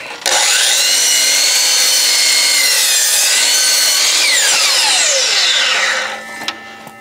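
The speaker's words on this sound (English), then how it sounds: "I like to take my saw, set it to a 45, and just trim that corner right there off" A power saw set to a 45-degree bevel trims the corner off a wooden pergola board, one continuous loud whining cut lasting about six seconds before spinning down, with no talking.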